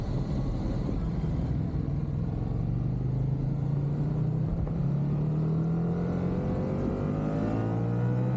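A car engine revs hard at about 6,500 rpm in second gear, a loud, steady roar that climbs in pitch through the gear and keeps a continuous rumble with no talk.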